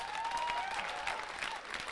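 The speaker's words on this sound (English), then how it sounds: "Give him a round of applause." Comedy-show audience breaks into applause, a brief burst of fairly distant, even clapping from a crowd, steady and moderately quiet with no clear talk over it.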